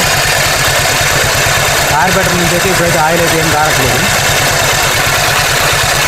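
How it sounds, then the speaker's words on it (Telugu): Motorcycle engine idling after a cylinder bore repair, a steady fast putter running continuously up close while someone talks over it. "ఇదిగోండి ఇంజన్ స్టార్ట్ చేసుకొచ్చిన టైం"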